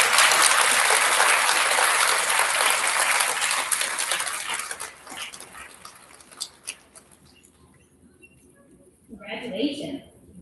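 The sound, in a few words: applause for fifth graders at school ceremony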